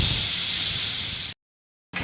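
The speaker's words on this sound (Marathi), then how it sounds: "तिसरी शिट्टी होते बघा" Pressure cooker whistle while chickpeas cook for a chana masala, a loud steady hiss that cuts off abruptly, then a brief silence before it starts again.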